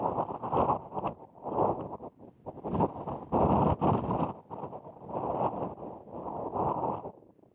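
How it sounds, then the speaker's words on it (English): Strong gusts of desert wind buffet the microphone at a disc golf course, roaring in uneven surges that swell and ease every second or so without any voices. "who doesn't love 40-mile-an-hour gusts out in the desert?"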